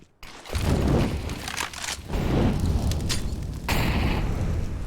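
A grenade blast in a competitive team shooter match, heard as several heavy, booming bursts in quick succession, loud and close, with no talking over them.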